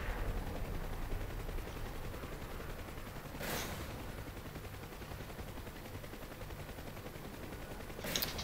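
Dense crackling gunfire and background rumble fill a flight combat simulation over Saipan, continuous and fairly faint, with two sharper bursts standing out briefly.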